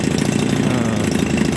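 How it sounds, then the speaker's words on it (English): A small Poulan 15cc two-stroke weed eater gas engine runs close and loud with a rapid, buzzy rattle, holding a steady pace from start to finish. "15cc engine."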